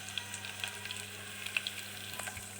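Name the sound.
chicken frying with garlic and ginger on high flame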